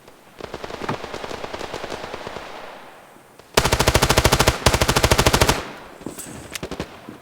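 Rapid automatic gunfire from a competitive online shooter, with a steady stream of shots followed by two loud close bursts of fire, then a few scattered shots fading out.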